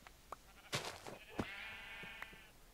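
Sheep bleating in a modded Minecraft survival game, a drawn-out wavering bleat preceded by a few sharp thuds and clatters, fairly quiet within a busy game soundscape.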